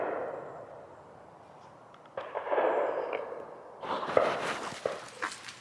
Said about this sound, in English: It sounds like fireworks, doesn't it? I guess it just echoes in the air as well